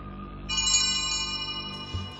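A ringing bell in the Chinese horror puzzle game Paper Bride 2 strikes once and lingers as a clear, sustained metallic tone over a low ambient drone, with no speech.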